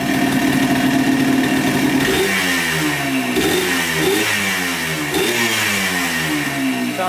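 A Yamaha Blaster ATV that bogs and lacks power, with a suspect throttle cable, revs up loudly and close three times, each rev rising and falling back toward a rough idle.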